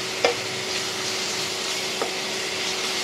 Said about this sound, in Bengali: রসুন বাটা, আদা বাটা, আদা রসুন বাটাটা একটু ভালোভাবে নেড়ে নেব